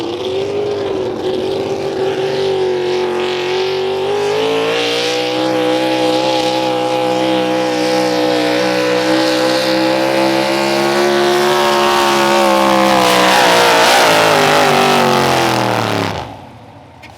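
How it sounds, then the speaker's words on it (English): Pulling tractor at a truck and tractor pull, its engine roaring loud and close as the revs build, holding a heavy sustained climb before cutting off abruptly near the end. "And Logan Amy brings up the RPMs."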